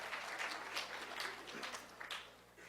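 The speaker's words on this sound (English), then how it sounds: "So you're going to all clap for yourselves." An audience claps for itself at a live presentation, a short burst of fairly faint, continuous applause from a crowd.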